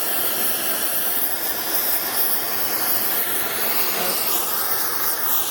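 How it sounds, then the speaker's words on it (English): A gas torch with a big nozzle, set to a non-oxidising flame for annealing, gives a loud, steady, close hissing roar that holds unchanged throughout. "I've got it set to a non-oxidising flame, which means that I'm a little shy on the oxygen"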